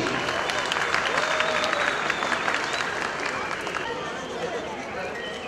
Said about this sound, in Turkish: Hadi Erkin Bağ sahibine bir alkış yapalım, bir alkış.